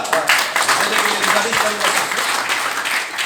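Enthusiastic audience applause at an achievers' gathering, a dense wash of many hands clapping steadily for a few seconds, with a voice speaking over it.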